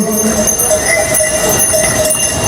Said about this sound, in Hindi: सब घोड़ा मन अछंते।